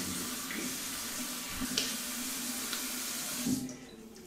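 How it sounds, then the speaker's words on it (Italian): A water tap runs steadily into a sink for rinsing the face with cold water after a shave, close and even, then cuts off near the end. "andiamo a sciacquare rapidamente acqua fredda"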